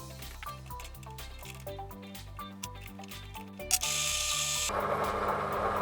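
A small 2.5 mm hole is drilled in metal with mineral spirits as coolant, a near, steady mechanical whir with rhythmic chattering pulses, ending in a louder, harsher grinding burst.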